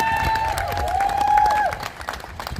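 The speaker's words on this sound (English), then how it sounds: "Let's give them a big round of applause" Applause from the crowd at a steelpan festival, moderate clapping mixed with a sustained ringing tone that fades out partway through, leaving softer scattered claps and crowd noise at the end.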